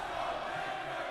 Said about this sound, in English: Crowd really getting into it now.